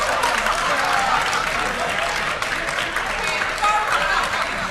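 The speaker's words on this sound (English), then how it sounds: "we would like to have an applause for Schiphol Airport" An audience at a student debate on sustainability applauds the winning group, Schiphol Airport, with sustained loud clapping from a crowd, mixed with voices and cheering throughout.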